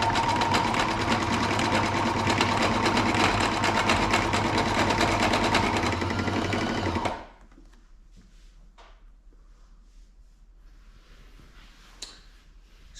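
A sewing machine stitches mohair climbing skins in a steady, dense run for about seven seconds, then stops abruptly, leaving a quiet room with faint handling noises.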